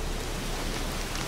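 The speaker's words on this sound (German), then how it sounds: "Hoch und es regnet schon wieder." Rain in the video game The Witcher 3 pours as a dense, even hiss of steady rainfall, filling the short stretch with no voices.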